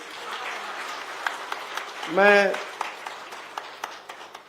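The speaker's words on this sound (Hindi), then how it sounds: "उसके लिए आप जोरदार तालियां लगाइए" An audience at a speech gives loud applause, a broad wash of clapping that continues under a voice briefly speaking in the middle.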